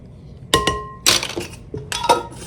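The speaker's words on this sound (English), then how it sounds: "We're just going to give that a quick mix." Flour, salt and baking soda are stirred in a bowl, with a few sharp clinks and knocks of a utensil against the bowl spaced irregularly between quieter scraping, close and clear.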